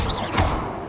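A Depulso force spell is cast in Hogwarts Legacy, a short loud whooshing burst with a thumping impact, under a second long, up close.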